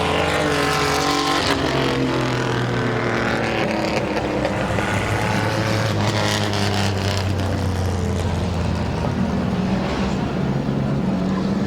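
Racing trucks roar around Midvale Speedway in a 2018 feature, engines revving and rising in pitch as several pass in a loud, continuous overlapping drone.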